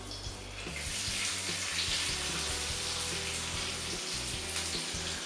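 Chopped onions frying in hot oil in a kadai, a steady, fairly quiet hiss and crackle that runs unbroken throughout with no voices.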